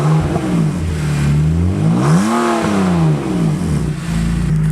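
A BMW E39 with its muffler deleted revs up through open exhaust, the note rising to a loud peak and then dropping and muting abruptly before settling back to idle, heard close.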